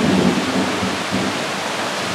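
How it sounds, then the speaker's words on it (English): Thunder rolls during a rainstorm over a raised-bed garden, a loud close rumble with heavy broadband rain noise that swells at the start and lingers throughout. "I don't know if you can hear all that thunder."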